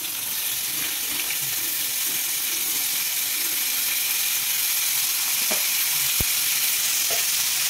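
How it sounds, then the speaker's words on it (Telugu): Washed minced mutton keema hits a hot pan, giving a loud, continuous hissing sizzle throughout, with a few brief spoon clicks near the end. "ఇప్పుడు ఇది వేసేసుకుంటున్నాను కీమా మొత్తం."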